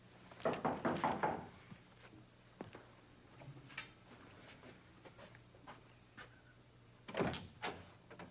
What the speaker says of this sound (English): I guess I didn't hear your first two knocks.